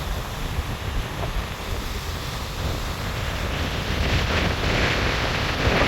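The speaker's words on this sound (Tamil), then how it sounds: "நல்ல பெரிய அலைகள் வருது" Loud, continuous roar of large storm-driven ocean waves crashing and churning on the coast at Jaffna, with wind buffeting the microphone throughout.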